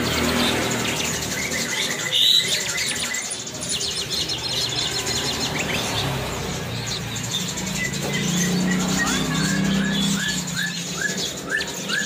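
Several loper canaries chirp and trill in quick repeated bursts over a busy background with rustling and light pattering.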